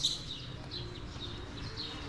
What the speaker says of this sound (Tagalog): May mga ibon din sila dito.